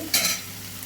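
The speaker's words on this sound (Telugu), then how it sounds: "ఇట్లా ఒక్క నిమిషం పాటు మడుకు బాగా వేయించుకుందామండి" Tempering for mango pulihora frying and being stirred in a pan, with a brief sharp scrape of the spoon early on and a steady soft sizzle that continues to the end.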